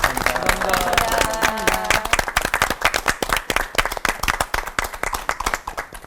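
Audience applause for three pastors in a church talk-show studio, dense clapping from many hands, loud and close, gradually thinning into a looser patter; a voice briefly speaks over the start.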